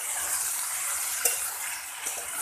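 Spiced beans and potatoes seasoned with coriander-cumin and chili powder fry in a pan, a soft, close sizzle broken by a few light scrapes of stirring.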